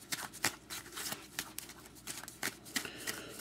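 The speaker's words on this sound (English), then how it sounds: "I shuffle, cut, start drawing cards off the top." A deck of hockey team cards being shuffled, quick riffling bursts and soft flicks in an irregular rhythm, close and fairly quiet, with no talking.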